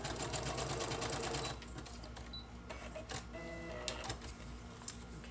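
A sewing machine stitches through layered paper for a handmade junk journal, a fast steady mechanical whir running loud for the first second and a half, then continuing more softly with a few sharp clicks.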